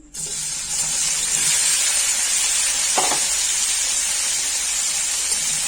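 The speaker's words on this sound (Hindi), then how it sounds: "अरबी को अब मैं फ्राई कर लूंगी" Taro root pieces drop into hot oil and set off a loud, steady hiss and sizzle of frying, starting abruptly and holding constant, with a brief clatter of stirring partway through.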